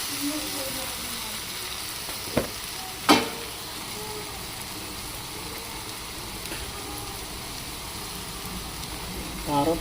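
Cabbage and egg curry with masala and chili powder stir-fried in oil, a steady close sizzle broken by a couple of sharp spatula knocks and scrapes.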